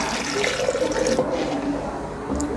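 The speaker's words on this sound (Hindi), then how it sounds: "अब इसी जग में हम लेंगे थोड़ा सा पानी" Water pours from a jug into a pot of cooking chickpeas, a steady, close splashing and gurgling stream that runs throughout.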